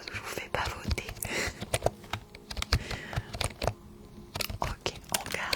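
A computer keyboard is typed on as an ASMR trigger, giving irregular, close, crisp key clicks and taps, with soft whispering heard throughout.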